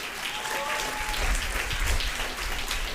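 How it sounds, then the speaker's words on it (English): An audience at a school student event claps in a sustained, dense burst of applause that holds at an even level throughout. "A big round of applause to our events coordinator, Ms. Hetal."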